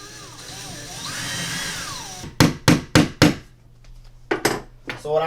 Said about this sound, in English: I just poked a little hole into here